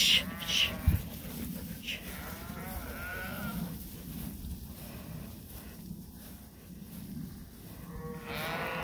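Sheep being moved to a new barn bleat and call at moderate distance, several voices overlapping amid shuffling and faint background noise.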